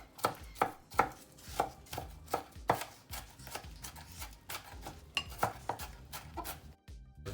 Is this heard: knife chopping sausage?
yes